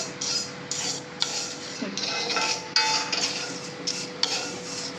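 Vermicelli is dry-roasted in a pan with cumin, mustard seeds and turmeric for upma. A spoon repeatedly scrapes and stirs, making a rough, rhythmic rustling and grating close by with occasional light taps on the pan.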